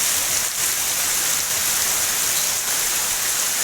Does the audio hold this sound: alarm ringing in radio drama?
no